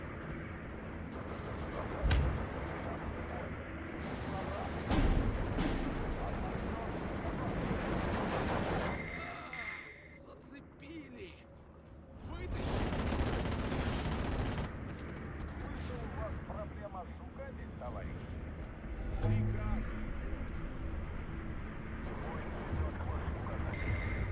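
Enemy mortar fire in Steel Division 2, a dense barrage of booming blasts and rattling gunfire that carries on almost throughout, with a brief lull partway before the shelling resumes.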